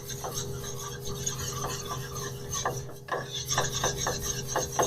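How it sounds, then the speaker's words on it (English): A spoon stirs a roux sauce for IKEA-style Swedish meatballs with steady rasping, scraping strokes against the pot, close and moderately loud, with a brief pause midway before faster repeated scrapes. "Mix it up nicely with the roux."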